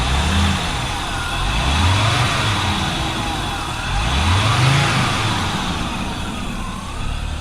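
An Audi S4 C4 engine with faulty, loose wiring runs and revs in steady, rising-and-falling surges, loud and close throughout with no talking.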